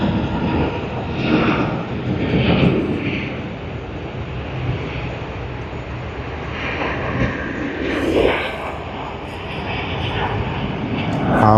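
An Emirates Airbus A380 jet airliner at Sydney Airport roars loudly with a broad, rushing engine noise that swells and fades in waves, mixed with gusts of wind on the microphone.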